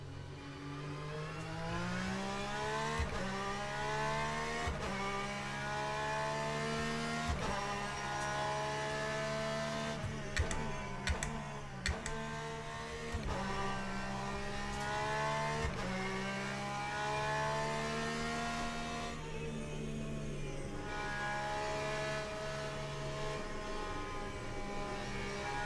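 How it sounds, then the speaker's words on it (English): Porsche race car in the Le Mans Ultimate racing game, its engine repeatedly winding up through the gears and shifting, a sustained loud howl with brief drops between shifts and no voices. "The Porsche sounds pretty good."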